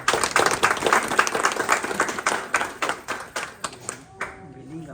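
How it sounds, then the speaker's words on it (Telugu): Devotees at the Ishta Siddhi Datta Kshetram in Palamuru clap for the swami in a lively round of applause that thins into scattered claps and fades out. A brief tonal voice follows at the end. "అందరూ కూడా కృతజ్ఞతాపూర్వకంగా స్వామివారికి ఒకసారి చప్పట్లు కొట్టారు"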